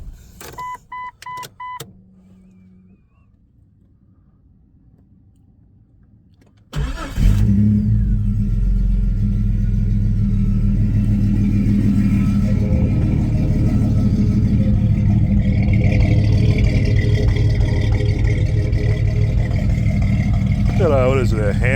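A 2000 Jeep Cherokee Sport XJ with a Titan 4.7 stroker engine and cam cranks after a few chimes and a quiet pause, fires, and settles into a loud, deep, rumbling idle with rising revs, close up.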